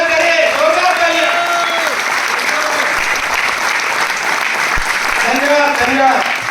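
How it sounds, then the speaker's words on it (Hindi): Loud, sustained applause from students filling a hall, a dense wash of clapping that runs the full length, with a voice speaking over it at the start and again near the end. "इनको जोरदार तालियों से इनका स्वागत करें। जोरदार तालियां।"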